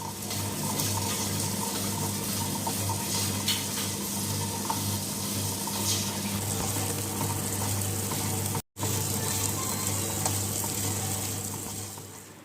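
A wet grinder churns rice and urad dal that were soaked for three hours into batter, giving a constant close-up hum and watery swish that runs unbroken apart from one brief cut.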